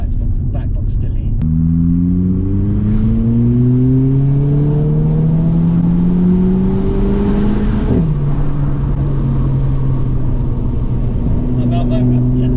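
A Mercedes CLA 45 AMG with a back box delete and its exhaust valve closed revs up in a rising drone, drops back at about eight seconds and settles into a steady loud rumble, close by and without talk.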